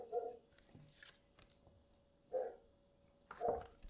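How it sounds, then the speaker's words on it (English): A dog barks a few times at a distance, short sharp yaps separated by quiet pauses. "Always barking."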